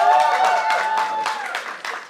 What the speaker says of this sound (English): A big round of applause for Nawaz bhai